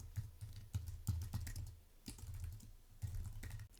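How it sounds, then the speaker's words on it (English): Keys clatter on a computer keyboard as text is typed into a sales funnel page template, arriving in short uneven bursts of quiet clicks with brief pauses between them and no one talking. "just highlight it and start typing."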